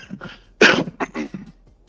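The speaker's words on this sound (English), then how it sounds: "I had to clear my throat" A man on a boxing talk show clears his throat in a short, rough burst, preceded and followed by a few brief gruff vocal sounds, close and fairly loud.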